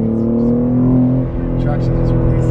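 A BMW G80 fitted with new intakes and downpipes roars close by with a deep, steady engine drone under excited voices.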